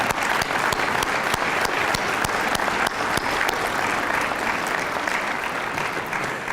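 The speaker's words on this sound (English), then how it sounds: "Give all of these pastors, this congregation, a round of applause." Loud, steady applause from a large church congregation at an MLK Day march gathering fills the whole stretch, dense clapping with no voices on top.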